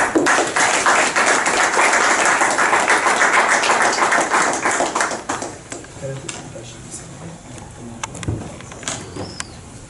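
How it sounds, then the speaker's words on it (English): Audience applause in the House of Commons at the British Parliament, a close, busy burst of clapping that fades after about five seconds into scattered taps, murmuring and speaking voices. "So give him a round of applause."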